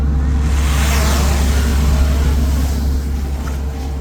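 A vehicle drives at a steady pace past frost-protected fields, producing a loud, continuous low engine rumble and road noise throughout, with no talk.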